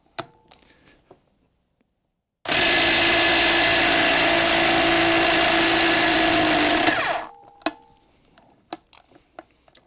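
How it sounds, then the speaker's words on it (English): A heavy breaker gun hammers loose a Loctite-secured flywheel bolt on a Ferrari 348/355, one loud sustained burst of about five seconds standing alone between quiet workshop clinks before and after. "you need the breaker gun that's capable of doing that job"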